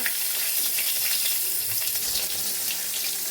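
Black cumin, chana dal and dried chillies sizzle steadily in hot tempering oil, a dense, continuous hiss and crackle close up with no talk.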